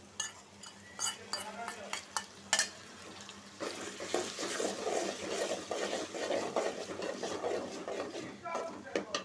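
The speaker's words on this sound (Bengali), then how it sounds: "একটু ভাজা ভাজা হোক, তারপরে আমি দিয়ে দেবো গুঁড়া মশলাটা।" Ginger, garlic and cumin paste fries with reddened onions in a pot for a beef and potato curry, giving a soft sizzle under repeated scraping and clinking of a spoon stirring, fairly quiet and close, with faint talk.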